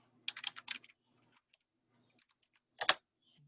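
Typing on a computer keyboard: a quick cluster of close keystrokes, a pause with faint taps, then a sharper double key press like a backspace, with quiet gaps between.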